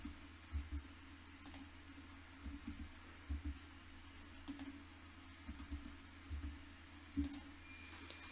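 Faint, irregular clicks from a computer mouse used to run a program for an mBot Neo robot, sparse single and paired taps over a quiet room hum, with no talking.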